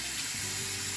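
Tap water streams steadily into a sink as rice is rinsed for a smothered chicken dish, a continuous close hiss with faint clinks and no talking.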